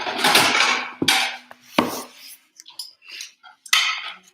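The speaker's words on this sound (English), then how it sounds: "let's plate this up" Dishes and cutlery clatter as food is plated in a home kitchen after cooking in shallow pans: sharp clinks and scrapes in irregular bursts, close and loud, with quiet gaps between.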